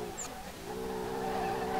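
Tires of a turbo VW Golf VR6 spin without traction in a racing video game, a steady whining squeal with engine drone that builds slightly over about two seconds.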